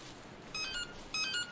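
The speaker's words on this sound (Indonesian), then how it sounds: "Check where the sound comes from. Suara handphone," Two short bursts of electronic mobile phone beeping in the horror game Anthology of Fear, thin tonal chirps over a faint background hum, heard alone.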